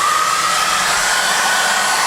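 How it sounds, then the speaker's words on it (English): A hair dryer blows steadily on fresh paint on a 1/48 scale HobbyBoss F-14D Super Tomcat model, a loud, close, continuous whooshing hum with a faint motor whine. "So let's get the hairdryer on it"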